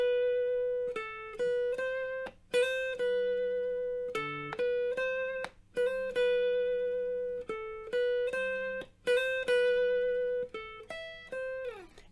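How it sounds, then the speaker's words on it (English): Electric guitar plays the overdub part from a song: clean, ringing single notes and short repeated phrases with sharp plucked attacks that decay between notes, alone and fairly quiet. "So now we get into this nice little overdub I wanted to add to this guitar"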